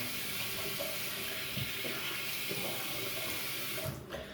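Cold water streams steadily from a bathroom faucet into a sink, a constant splashing rush that cuts off abruptly near the end.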